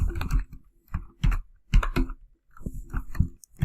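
Typing text on a computer keyboard during Photoshop editing, a close run of quick key clicks in several short clusters separated by brief pauses, with no talking.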